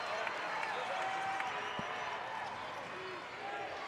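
An excited basketball crowd roars steadily at an NCAA game between Rhode Island and UMass Lowell after a game-tying three-pointer, a dense, loud wash of cheering with faint squeaks and thuds in the arena.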